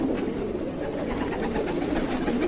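Large pigeons in a loft in Bareilly, Uttar Pradesh, coo in a steady, low, overlapping murmur from several birds at close range, with no pauses and no voices.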